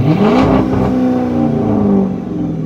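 A Chrysler 300's engine is briefly revved, rising into a loud, close, droning whir that holds steady and then slowly eases back down, with no voices over it.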